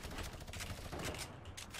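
Rapid bursts of gunfire in a competitive online shooter match, dense crackling shots firing continuously at close range with no voices over them.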